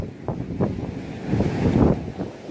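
Hurricane-driven surf crashes through a damaged pier in a series of rough, booming surges, with strong wind buffeting the microphone throughout.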